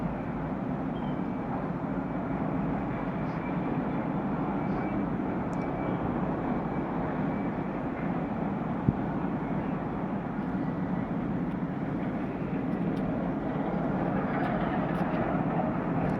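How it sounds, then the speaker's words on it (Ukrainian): A steady low engine rumble drones continuously from a large cruise liner nearby in an Italian port, unchanging and broad, with faint distant sounds over it. "Це шум цього лайнера."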